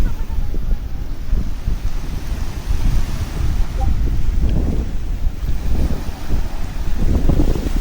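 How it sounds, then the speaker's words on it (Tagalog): Strong gusty wind buffets the microphone at a beach campsite in Zambales, a loud, low roaring rumble that surges and fades in waves throughout. "Lakas kasi ng hangin."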